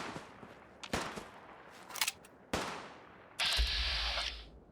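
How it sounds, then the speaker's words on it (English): Gunfire in Fallout 4: several separate sharp bursts of shots ring out at moderate distance, then a longer, louder burst with a low rumble near the end. "Who's shooting up there?"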